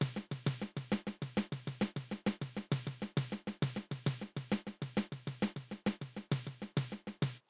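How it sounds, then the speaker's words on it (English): Paradiddle played on an electric and an acoustic snare drum, with every third stroke accented. The hits come in a steady rapid stream, alternating between two distinct snare tones, close and crisp with no talking. "this is a paradiddle, and you can hear the difference between right hand and left hand because the snare drums are different sounds"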